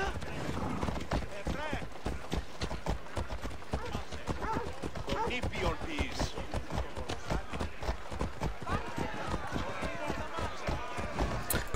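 A horse ridden up stone stairs in the game Assassin's Creed Odyssey gives a quick, steady clatter of hooves, running rhythmically throughout with a brief whinny, while voices speak over it.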